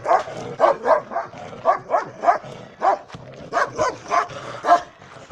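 A dog barks over and over in a fast, steady rhythm, a dozen or so loud, close barks in short groups, with no one talking.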